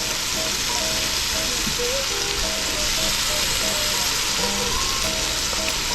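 Kingfish and minced garlic fry in a hot oiled pan, a dense, steady sizzle and crackle running throughout, close and loud with faint tonal sounds beneath.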